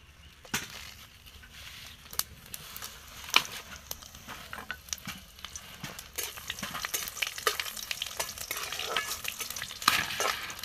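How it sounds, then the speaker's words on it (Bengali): Panch phoron seeds and whole dried red chillies fry in hot oil with a steady sizzle. Sharp crackles and pops are scattered throughout, along with occasional scraping stirs, and the frying grows a little busier toward the end. No one speaks. "আমার ফোড়নগুলো ভাজা হয়ে গেছে"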